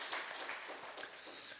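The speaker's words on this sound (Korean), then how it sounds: "감사의 박수로 영광을 드리겠습니다" A church congregation at a Sunday thanksgiving service gives a short, faint round of applause: a soft, even patter of many hands with a few brighter claps, heard from a distance.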